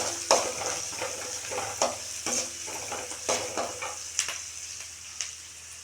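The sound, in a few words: onions frying in a pan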